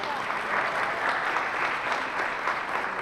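An audience at a high school senior awards ceremony claps in a full, sustained round of applause, dense and steady throughout.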